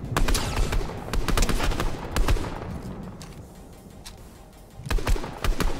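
Video game firefight gunfire, bursts of sharp rapid shots crackling in clusters, loud and close, with a lull midway before another volley; no talking.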